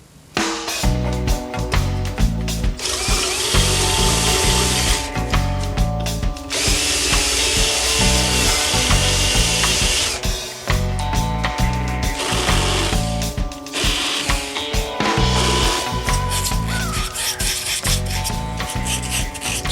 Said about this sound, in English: The hole in the control plate is too small, so out with the drill.